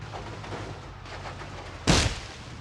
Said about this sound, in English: I keep hearing some crazy gunshots over here.